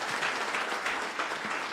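An audience applauds at a luncheon held at Bomas for Shabana FC after its promotion to the FKF Premier League. Dense, steady clapping from many hands sounds somewhat distant and continues evenly throughout.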